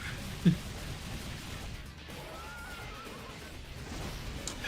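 A flaming horse neighs in the video game Dante's Rock 'n' Roll Nightmare, a short whinny heard faintly over game sound with low background noise.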